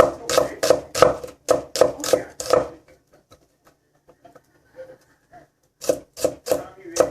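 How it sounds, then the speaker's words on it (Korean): A knife chops three onions on a cutting board for Korean ssamjang: a fast steady run of about a dozen crisp taps, a pause with faint handling noises, then another quick burst of chops. "양파 세 개를 다지고 있습니다"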